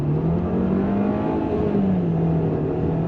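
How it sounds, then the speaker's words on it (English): A 2025 VW Taos subcompact SUV with an 8-speed transmission pulls away from a stop, its engine drone loud and steady with a slight rise and dip in pitch throughout. "we're gonna come to a stop and we're gonna go on throttle"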